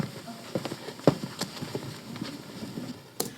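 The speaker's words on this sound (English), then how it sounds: "We have his footsteps leaving." Foley footsteps of a man walking away: a series of soft, irregular steps, fairly quiet and close, with a few sharper impacts.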